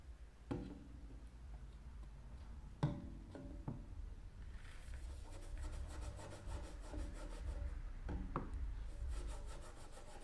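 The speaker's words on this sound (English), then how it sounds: "we're just gonna keep rubbing this here like this in a circular motion" A rag rubbing metal polish over stainless steel in circular motions makes a soft, close, repeating scrubbing and swishing sound, with a few sharper knocks. The scrubbing continues steadily with no one talking.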